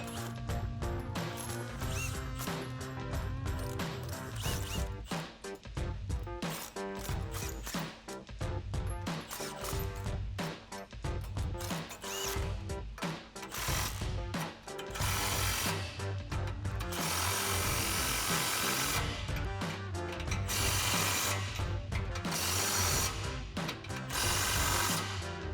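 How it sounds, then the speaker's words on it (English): An impact wrench with a 22mm socket tightens suspension bolts on a Ford F-150 during a lift kit install, firing in repeated loud, rattling bursts with short pauses between them. "we'll grab our impact and 22mm socket and tighten these down"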